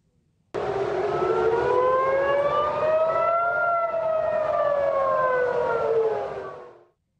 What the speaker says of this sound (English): sirens blare over Tel Aviv just within the past few hours